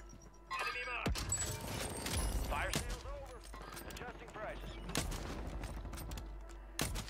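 Sniper rifle shots in Call of Duty: Warzone, several loud sharp cracks at irregular intervals amid game noise, with someone talking throughout.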